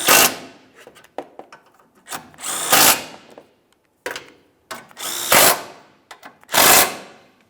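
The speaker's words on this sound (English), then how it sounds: "and then we can tighten all of the bolts" A power tool tightens the A/C condenser bolts on a 2011-2018 Volkswagen Jetta, in a series of loud, close whirring bursts of about a second each, separated by short gaps and softer clicks.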